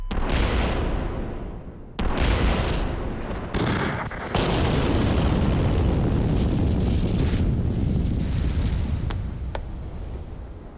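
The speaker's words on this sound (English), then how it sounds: "This is one of the loveliest shots of an explosion I think that we have ever gotten." A powerful explosion at a lake roars with deep, rumbling booms and sharp repeated blasts, sustained and loud for several seconds before slowly tapering off.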